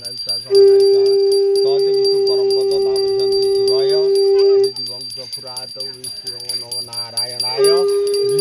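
A bell rung during a puja for a vehicle in a village home, a sustained ringing tone heard alongside chanting and voices that largely cover it.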